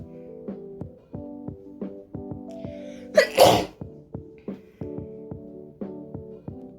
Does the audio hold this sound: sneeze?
yes